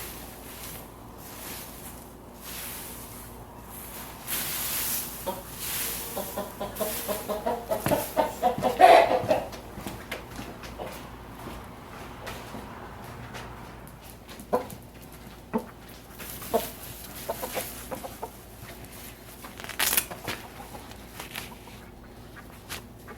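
A rooster clucks and squawks in bursts, loudest midway, amid outdoor background noise and scattered knocks.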